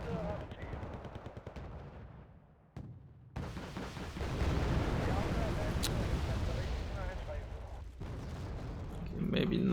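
Mortar and artillery fire in the video game Wargame: Red Dragon, with a steady roar of distant shelling and machine-gun rattle. It builds loud and continuous after a brief lull, under faint talk.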